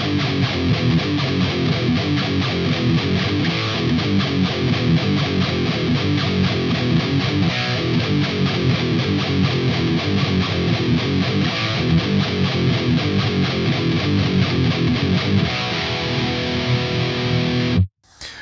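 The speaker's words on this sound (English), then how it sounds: "and then the guitars come in and they sound like this" Heavy distorted electric guitars play a chugging, repeating riff, loud and steady for about eighteen seconds before cutting off abruptly.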